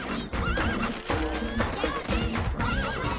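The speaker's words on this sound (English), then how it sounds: "From the horse-riding Kibapon to the shield-savvy Tatepon" Horses neigh in the Patapon video game, where Kibapon warriors ride into battle: several wavering whinnies come one after another, loud and near, over a dense, busy game soundtrack.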